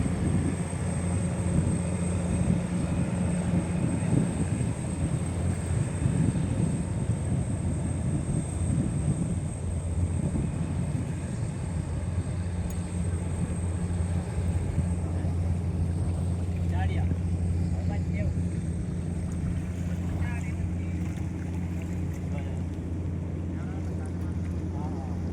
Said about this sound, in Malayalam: ബോട്ട് പോകണുണ്ട്.